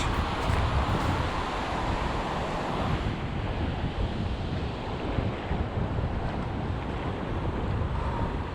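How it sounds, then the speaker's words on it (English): Ocean surf breaking at Doheny State Beach in Dana Point, a steady loud wash of waves rolling in under heavy wind buffeting the microphone, continuous for the whole stretch with no voices. "We're gonna go give it a launch here through the surf at Doheny State Beach."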